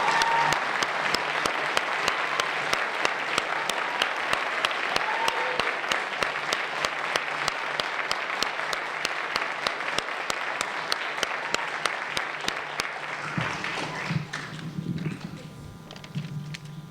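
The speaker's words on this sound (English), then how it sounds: "Please join us in a round of applause for this year's National Junior Honor Society members." Audience applauds steadily for National Junior Honor Society inductees at a middle school induction ceremony, sustained clapping from a full room that thins out near the end.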